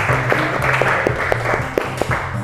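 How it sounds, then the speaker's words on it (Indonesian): Classroom applause for quiz winners: steady dense clapping from a small group runs throughout, fairly loud, with a low hum or music underneath and no talk. "Kita tepuk tangan dulu untuk semuanya."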